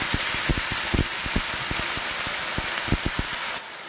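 Chopped pumpkin stems hitting hot oil tempered with five-spice and blackened fenugreek, giving a steady close sizzle with a dense scatter of small crackling pops that drops off abruptly at the end.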